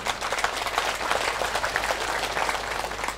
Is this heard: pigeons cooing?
no